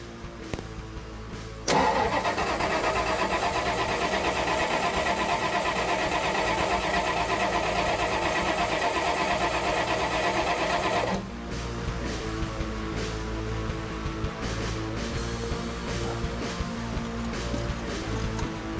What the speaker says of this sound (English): Now we're going to try cranking the engine a few times.